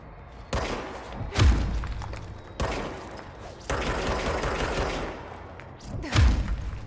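Gunshots from the video game Control hit as sharp, heavy thuds and bursts, a handful of loud separated blasts with quieter rattling fire between them, near and punchy, with little talk.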